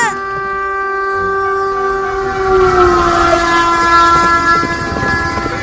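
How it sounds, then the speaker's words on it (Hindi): Train approaches loudly on a railway line, its horn blaring in sustained tonal blasts as rumbling wheels and clatter swell closer and louder. "ये नहीं दिख रहा कि आगे से ट्रेन भी आ रही है।"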